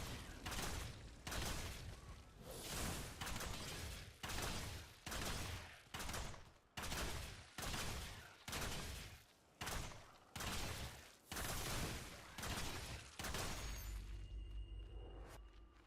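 Crossbow shots in Chrono Odyssey fire in a rapid, evenly spaced string of about a dozen loud, sharp bursts, each trailing off before the next, then the volley stops.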